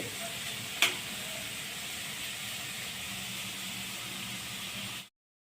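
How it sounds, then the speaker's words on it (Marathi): Onions sautéing in a pan give a steady, soft frying hiss with one brief sharp clink near the start, continuing evenly until it stops abruptly. "कांदा व्यवस्थित परतून घेणे"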